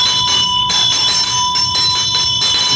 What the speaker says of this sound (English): we have a bell and a dorji